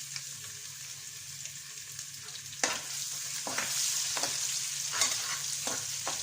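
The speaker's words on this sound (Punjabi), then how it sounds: "ਦੋ ਮਿੰਟ ਵਾਸਤੇ ਆਪਾਂ ਇਹਨਾਂ ਨੂੰ ਭੁੰਨ ਲਵਾਂਗੇ ਲਸਣ ਅਦਰਕ ਨੂੰ" Chopped garlic and ginger fry with cumin in a pan, giving a steady soft sizzle punctuated by several scraping stirs from a spoon, close and alone without talk.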